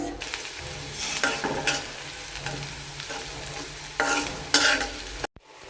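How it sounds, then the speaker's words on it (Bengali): Onions and dried chilies sizzle in a pan while a spoon stirs and scrapes through them, the frying hiss swelling in bursts before cutting off abruptly near the end. "পেঁয়াজ মরিচ এগুলি ভাজছি শুকনা মরিচ"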